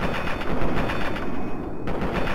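Rapid automatic gunfire from the video game Fallout 3 rattles loud and dense, a continuous stream of shots with a brief dip before it resumes.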